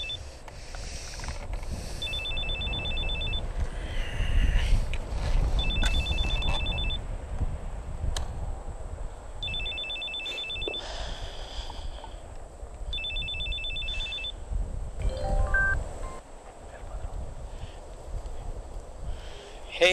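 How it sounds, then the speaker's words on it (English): A phone rings in repeated double bursts, four clear rings spaced a few seconds apart over low background rumble, with no talk during the ringing. "That's your phone, Sam."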